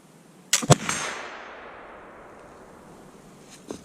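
A .36-caliber Sitting Fox black powder flintlock rifle fires outdoors. A quick ignition snap is followed at once by the sharp crack of the shot, which fades in a long rolling tail, with a faint later knock.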